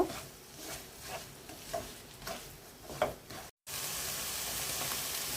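Papaya halwa with pistachios, almonds and raisins stirred in a pan, soft scraping strokes and light clinks over a quiet sizzle, then a brief gap of silence before a louder, steady frying hiss, with no talking.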